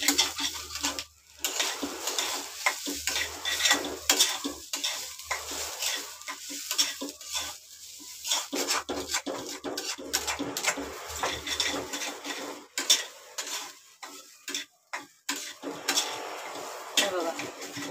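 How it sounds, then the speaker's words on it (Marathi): Damp rice roasting in a kadhai for sweet coconut rice, with frequent metal spatula scrapes and clinks over a soft sizzle, close and uneven, some stretches quieter between bursts of stirring. "तांदूळ चांगले परतून घ्यायचे"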